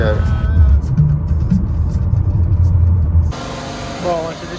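Busy street traffic in Nigeria, a loud close rumble of car and motorbike engines idling and moving, with people talking over it before the sound cuts to a quieter scene.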